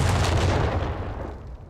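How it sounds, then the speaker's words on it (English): A bundle grenade explosion in Company of Heroes 3, a single loud, close blast with a heavy low boom that rolls off and decays over under two seconds, with no talk. "Here is the bundle grenade again"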